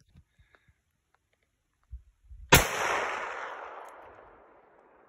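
A rifle is fired without a rest at a 300-yard target: one loud, sharp crack with a long fading echo rolling away. A few faint clicks and handling noises come just before it.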